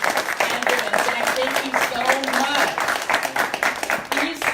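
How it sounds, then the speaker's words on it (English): An audience claps for the donors of suits at a mission event. The applause is moderate and runs throughout, mixed with a voice speaking over it. "Let's give them a hand clap"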